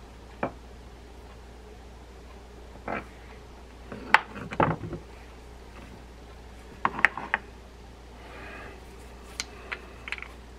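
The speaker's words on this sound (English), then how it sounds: "when you go into bait feeder mode, tripping down, watch how that lever moves" A Penn SpinFisher V Live Liner 6500LL spinning reel's bait feeder lever is tripped during servicing, giving a few close, sharp plastic-and-metal clicks and small mechanical rattles scattered over quiet background.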